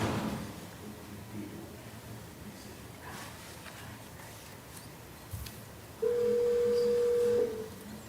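At a planning commission meeting, a speakerphone line sounds a steady electronic tone for about a second and a half to reach an applicant, preceded by faint room rustling and a soft thump.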